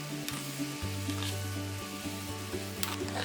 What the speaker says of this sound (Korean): 마지막에 지단을 넣고 잘 섞어